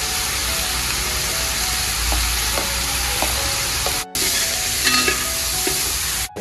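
Ginger, green chili and garlic frying and being stirred in a pan while making duck roast, a steady close sizzle with scraping stirs and a brief break near the end.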